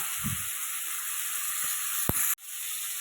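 Tomatoes for a fish curry sauté in a pan with a constant close sizzle, marked by a few soft knocks and a sharp clack before the hiss briefly cuts out.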